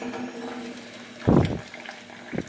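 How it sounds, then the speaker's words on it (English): Water from a kitchen sink tap runs in a short burst, a close splashing rush that swells briefly then stops, followed by a second brief gush, heard alone in a quiet kitchen. "I'm getting a little bit of water there"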